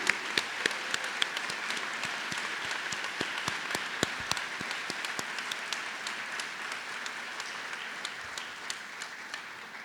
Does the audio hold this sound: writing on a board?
no